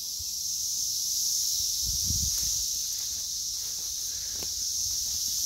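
Cicadas buzzing in a June garden with bees among pear trees: a continuous high, even drone, with faint rustling and a brief low thump partway through.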